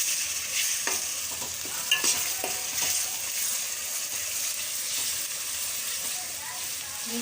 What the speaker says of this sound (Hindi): थोड़ा फ्राई करेंगे।